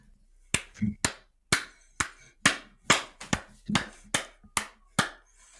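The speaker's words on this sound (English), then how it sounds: "I just felt like clapping." One person claps alone in a quiet room on a podcast set, about a dozen sharp, close claps in an uneven, loose rhythm spaced roughly half a second apart.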